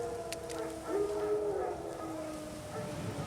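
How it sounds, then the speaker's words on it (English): Wild dogs howl in The Witcher 3, a drawn-out wavering howl at mid distance over a quiet outdoor ambience, without talk. "Wolves? No. Wild dogs."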